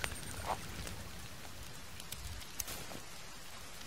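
Rain falls steadily in the game The Forest, a soft continuous patter with a few faint clicks over it.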